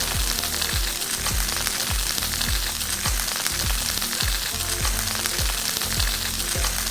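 Garlic fries in butter alongside branzino fillets in a pan, giving a loud, dense, close sizzle with a steady rhythmic bubbling pulse throughout.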